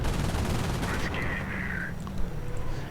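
Machine gun fire rattles in a Company of Heroes battle, a dense, loud, continuous burst of gunfire with a whistling tone over it.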